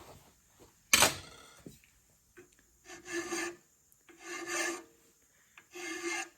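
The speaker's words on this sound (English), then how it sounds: "I'm going to work the weld over start with a mill bastard file" A mill bastard file rasps across a weld on an air compressor part, with a sharp knock first, then several steady back-and-forth strokes, close and fairly quiet.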